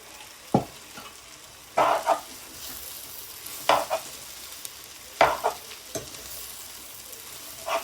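Steamed puttu, mixed with keerai greens for puttu kothu, is stirred in a pan: repeated scraping, tossing strokes at irregular intervals over a faint steady sizzle, close by.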